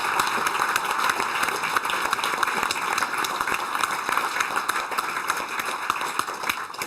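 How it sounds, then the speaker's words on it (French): An audience applauds Dr. Wolfgang Ullrich, an endurance racing figure, with a steady, dense roar of clapping that holds at an even level throughout. "Oui, qu'on peut applaudir."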